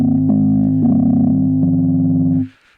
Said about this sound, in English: kind of oscillating between the waves and all the distortion